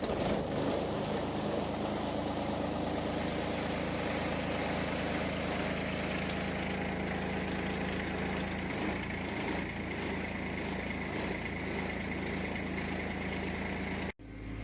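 A farm tractor engine runs at a steady idle for the whole stretch, a constant moderately loud low rumble with no voices, cutting off abruptly at the end.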